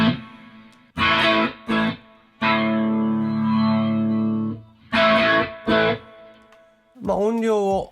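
Guitar notes and chords played through a Strymon Lex V2 rotary speaker pedal with light warm drive, short phrases and a longer sustained chord with swirling modulation, close and clear, separated by brief pauses.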